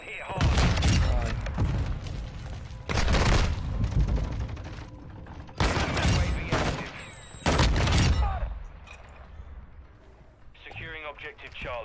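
Call of Duty match gunfire: loud bursts of close automatic fire and heavy blasts in several clusters, with game voice callouts and player chatter mixed in.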